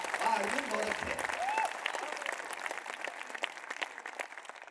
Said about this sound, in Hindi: लेकिन आपकी तालियां मुझे कम लग रही हैं।